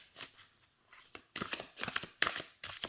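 An oracle card deck is shuffled close up in short, crisp papery riffles and slaps, a few bursts separated by brief pauses.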